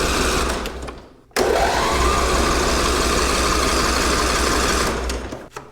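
A Cub Cadet 1440 lawn tractor engine cranks steadily and loudly, with a short pause near the start, then keeps turning over without catching.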